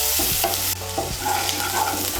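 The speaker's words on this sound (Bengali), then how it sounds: "পেঁয়াজ কুচিটাকে লাল করে ভেজে নেব" Finely chopped onion stirred in hot oil, with a steady sizzle and scraping stir strokes in short bursts, close and fairly loud.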